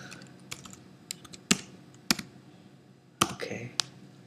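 Keys tapped on a computer keyboard in scattered bursts, a few sharp keystrokes and clusters with pauses between them, close and moderately loud in a quiet room while entering terminal commands to compile a Fortran program.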